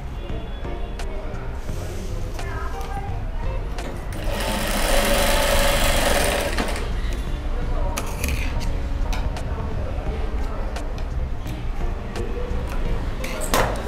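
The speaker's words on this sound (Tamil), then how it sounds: "இங்கே ஒரு தையல் போடணும்" A sewing machine stitches a fabric card holder in short close bursts of rapid needle chatter, with a longer louder run in the middle, separated by quieter pauses with handling noises and a voice speaking.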